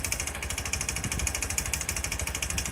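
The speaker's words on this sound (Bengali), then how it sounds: "তাহলে বুঝবেন যে বাইকের কানেক্টিং রডের সাউন্ড, এটি কানেক্টিং রড খারাপ।" A motorcycle engine idles with a rapid, steady metallic knock from a bad connecting rod, the harsh hammering rhythm close and loud, continuous without any voice over it.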